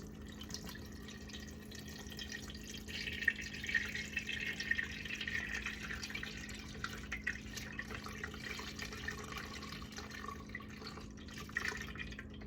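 Cottage cheese whey poured slowly through a strainer, a faint, continuous trickle of liquid with soft drips and splats, quiet and steady over several seconds with no talk.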